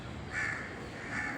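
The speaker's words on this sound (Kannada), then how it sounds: "ಕಾಗೆ ಕೂಗ್ತಾ ಇದೆ" A crow caws twice outdoors, two drawn-out harsh calls about a second apart, somewhat distant and faint over a steady background hiss.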